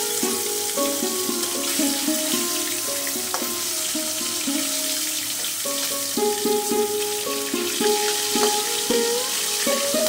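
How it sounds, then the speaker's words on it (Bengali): Four pieces of fish fry in a pan after being flipped. A continuous, even sizzle and crackle runs throughout, with small pops and spatters. "আমার মাছ ভাজা কিন্তু এক পিঠ হয়ে গেল,"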